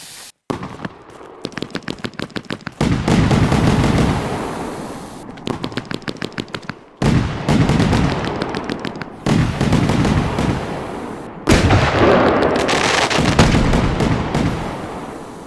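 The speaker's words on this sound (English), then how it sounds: "So that we do have a little fireworks show on this one" A fireworks show in the game Fireworks Mania: rapid crackling bursts and rattling volleys of explosions fire in several long loud sequences, separated by brief gaps.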